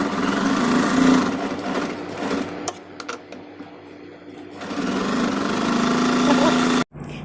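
A sewing machine stitches a seam on a princess-cut, side-open boat neck blouse, its motor whirring steadily, easing off midway, then running hard again before stopping abruptly near the end.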